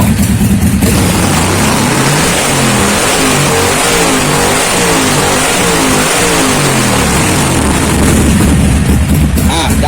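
A steady, low motorcycle engine rumble idles continuously at an even pace throughout, loud and close, with no voices.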